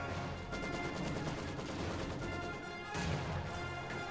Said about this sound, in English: Mortar is firing, however.